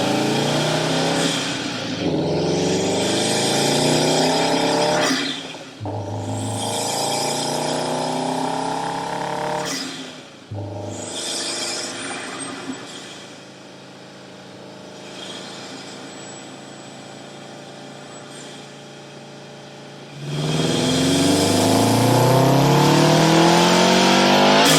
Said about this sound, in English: because it makes that cool intake noise.